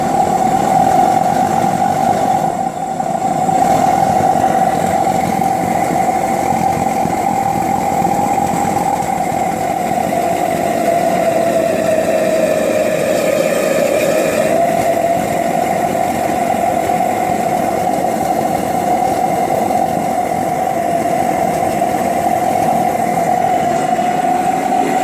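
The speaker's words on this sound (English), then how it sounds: "Throws a pretty big flame. That will be plenty for my gas forge" A homemade burner for a gas forge, fed through a ball valve, roars steadily with a big flame, a loud continuous rushing drone that holds level throughout with a slight shift in tone midway.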